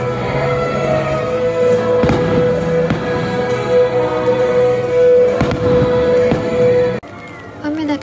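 Fireworks bursting in a steady series of loud booms and crackles over a low crowd murmur at a Tokyo Disney resort park at night, ending abruptly near the close.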